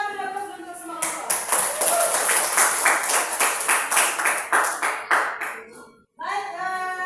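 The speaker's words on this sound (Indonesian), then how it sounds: "Kita beri aplaus untuk semua kelompok." A classroom group claps for all the discussion groups, with a burst of brisk hand claps that carry on steadily for several seconds before breaking off. A voice follows briefly afterwards.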